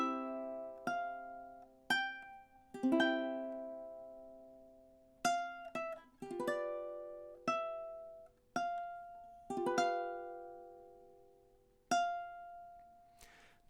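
Ukulele plays four bars of the Star Spangled Banner, measures 10 to 13, as a slow sequence of plucked chords and notes, each ringing and fading, quiet and close with no voices.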